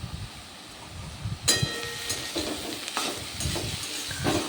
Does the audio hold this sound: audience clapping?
no